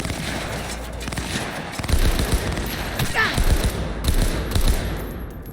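M251S Ajax power weapon fired in Cyberpunk 2077, a loud rapid run of close gunshots with ricocheting bullets against battle noise, and a voice talking over it.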